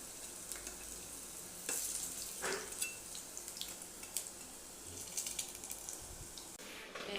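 Chops and fritters crackle and sizzle in hot oil after being flipped, a steady close frying hiss with a few brief louder pops, no voices.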